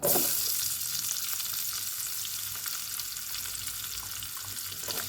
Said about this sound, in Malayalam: ഇത് എണ്ണയിൽ സവോള ഒരെണ്ണം അരിഞ്ഞതിടാം.